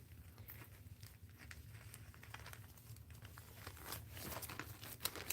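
A big clear plastic Ziploc bag handled up close, soft irregular crinkles and rustles that get busier and louder toward the end, quiet overall with no talking.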